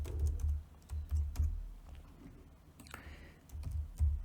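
Rapid keystrokes on a computer keyboard while code for a crypto trading bot is typed, close and crisp, arriving in uneven bursts of clicks with short pauses between them.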